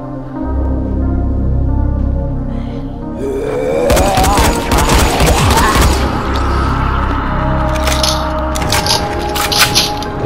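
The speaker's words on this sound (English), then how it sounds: "don't use the guns, they're too loud, they'll attract more zombies" Loud bursts of gunfire from guns fired in the zombie video game Dying Light, a dense volley of sharp cracks over several seconds amid a busy game soundscape with a low drone underneath.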